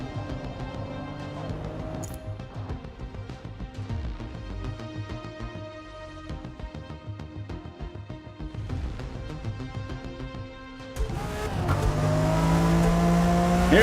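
A race car laps the Catalunya circuit in the Forza racing game, its engine revving and dropping through gear changes, steady and close, then swelling louder toward the end.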